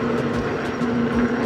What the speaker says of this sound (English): A little bit noisy, I will say, this 750 watt motor with a 1200 watt peak.